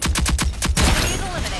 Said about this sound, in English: Don't die to the explosion, run!